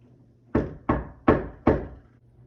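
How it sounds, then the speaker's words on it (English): Four firm knocks on a door at a steady, even pace, close and loud against a quiet room. "the door always knocks when I start typing lessons"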